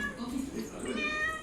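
A cat meows a few times in quick succession, close and fairly clear, with a person talking over and around the calls.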